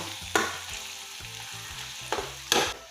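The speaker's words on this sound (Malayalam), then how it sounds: "ഇനി നമ്മളിതിനെ ഇളക്കി മൂപ്പിക്കണം" Curry leaves frying in hot oil for a horse gram curry, a steady soft sizzle with sharp crackling bursts as they are stirred, close and fairly quiet, no voices.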